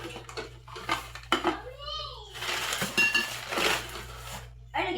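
Plates and dishes clattering and clinking close by at a simple home Father's Day meal, scattered sharp knocks and rings, while voices, including a child's, talk throughout.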